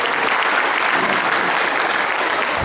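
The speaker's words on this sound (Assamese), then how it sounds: "সজোৰে হাত চাপৰি মাৰি আমাৰ কৃতজ্ঞতা প্ৰকাশ কৰিব লাগে" Loud, dense applause from an audience at a farewell meeting for the general manager of Numaligarh oil refinery, steady sustained clapping throughout with no gaps.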